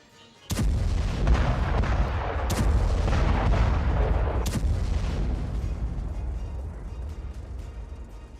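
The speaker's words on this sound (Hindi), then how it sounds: "विस्फोटक लदी गाड़ी में जोरदार धमाका हुआ" A car bomb blast during a suicide attack near the Frontier Corps headquarters in Pakistan: a sudden loud boom, then a long rolling roar with further sharp cracks, slowly fading. No one speaks.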